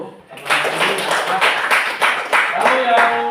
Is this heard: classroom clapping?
yes